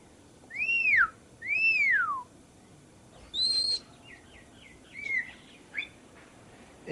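Birds call one at a time in an aviary: two clear, rising-and-falling whistled notes, then a sharp higher call and a few quicker chirps, all fairly close against a quiet background.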